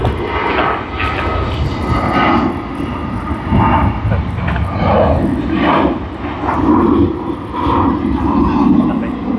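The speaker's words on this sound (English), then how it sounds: "we will just capture takeoff" Jet airliner taking off at Sydney Airport on a Friday evening, a loud sustained engine roar rising and swelling in broad waves, heard from nearby with faint radio chatter underneath.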